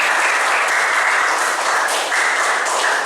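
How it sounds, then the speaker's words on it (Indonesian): A classroom of students applauding steadily for a classmate after a group presentation, a dense, continuous wash of clapping that stays loud and even throughout with no pauses. "Kita beri tepuk tangan dulu untuk temannya."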